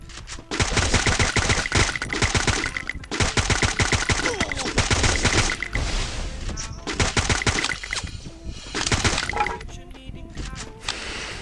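AUG rifle gunfire in a video game crackles in long, rapid automatic bursts, loud and dense, with brief gaps and a few shorter volleys toward the end.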